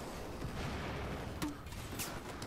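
Explosions and gunfire from a Battlefield 4 online match crackle and rumble faintly in the distance as a steady, busy background of battle noise.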